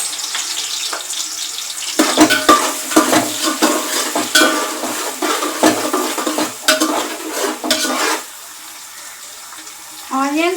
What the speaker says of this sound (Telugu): ఆనియన్స్ ఫ్రై అవుతూ ఉంటాయి.